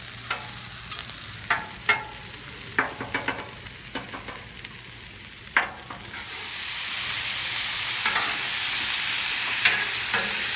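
Mushrooms frying on a Blackstone griddle give a soft sizzle broken by sharp scraping clicks from stirring, and the hiss swells steadily louder in the second half.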